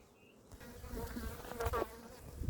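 A steady, close buzzing of many honeybees swarming together, a continuous droning hum that rises and falls slightly.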